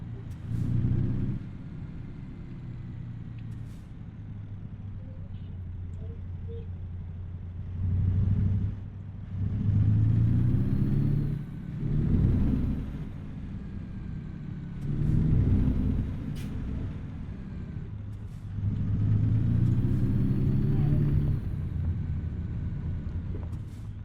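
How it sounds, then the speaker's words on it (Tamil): Truck reversing in American Truck Simulator, a heavy diesel engine rumbling steadily with repeated swells in revving as the rig backs up, loud and continuous with no voices. "நான் ரிவர்ஸில் வண்டி விடுறது தான் கரெக்டாக இருக்கும்"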